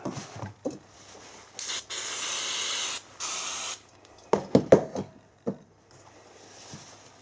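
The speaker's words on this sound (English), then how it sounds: "Wipe with brake spray." Two long hissing bursts from an aerosol can of brake cleaner, followed by a few quick rubbing and wiping sounds, close by with no talking.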